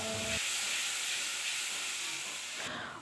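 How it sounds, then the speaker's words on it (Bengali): Whole spices frying in hot oil for a paneer curry, a steady close sizzling hiss that runs unbroken for a few seconds and then drops away sharply near the end. "মিশিয়ে রাখা গোটা মশলাগুলি দিয়ে দেব এগুলি একটু ভালো করে লাল করে ভেজে"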